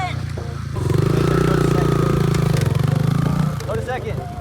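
A dirt bike engine revs up loud and close during a first-time ride, a throaty buzzing that rises and holds for a few seconds before dropping back to a rough idle, with voices talking over it.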